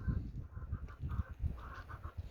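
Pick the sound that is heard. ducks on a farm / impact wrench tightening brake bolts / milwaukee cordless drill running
ducks on a farm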